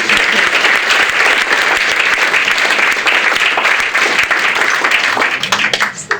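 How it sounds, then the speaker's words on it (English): Loud audience applause at a launch party, a dense, continuous roar of clapping close up that holds steady before tapering off at the end. "Let's give them applause."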